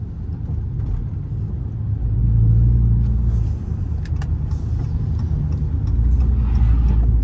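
A Dodge Charger SRT 392 on the move, heard from inside as a low, steady engine rumble and road drone that swells around the two-second mark and again late on, with no talk over it.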